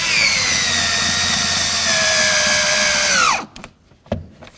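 A power drill drives screws into the exterior door handle of a 1988-2002 GMC Sierra 1500 truck, a loud steady whine that winds down after about three seconds, followed by a few faint clicks.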